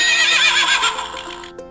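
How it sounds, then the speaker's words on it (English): A horse neighs in one loud, close whinny of about a second and a half that wavers and trails off, followed by a brief faint snort, with no talking. "Let's listen to the sound that the horse makes."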